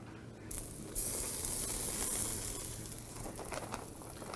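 Ribeye steaks drop onto a 700-degree grill and break into a loud, steady searing sizzle up close that slowly eases off, with a few small pops and no talk.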